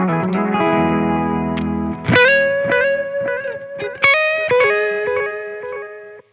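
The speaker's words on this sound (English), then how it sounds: "A tape echo. The repeats turn darker in the with the tape echo." Electric guitar through the tape echo effect on a Zoom G5 multi-effects processor: sustained chords, then picked single notes, each trailed by darker, softening repeats, loud and clear with no talking.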